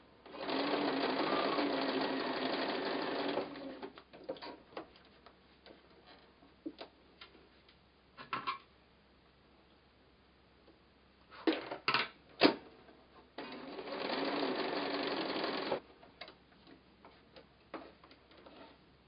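A sewing machine stitches free-motion thread painting on a fox art quilt, running in two loud sustained bursts at the start and near the end, with scattered ticks and short clatters in between.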